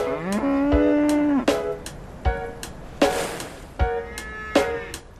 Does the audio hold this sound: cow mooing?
yes